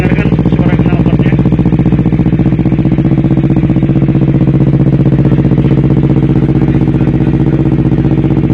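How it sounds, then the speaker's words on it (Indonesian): A Honda CBR 250RR motorcycle idles through its exhaust in sport mode, a loud, close, steady low rumble with fast even pulses that stays unbroken throughout. "Coba dengarkan suara knalpotnya."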